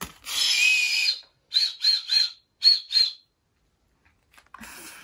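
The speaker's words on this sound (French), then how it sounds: "C'est les sifflets." A candy whistle is blown in short, shrill toots: one long blast, then three quick bursts and two more, a pause of silence, and a final breathy start, all close and loud.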